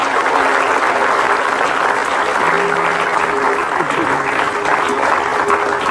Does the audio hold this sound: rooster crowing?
no